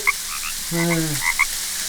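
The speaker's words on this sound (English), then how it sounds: "Sounds like a big bullfrog." A bullfrog croaks indoors, one low resonant drawn-out croak near the middle, standing clear against quiet room noise with faint higher chirps around it.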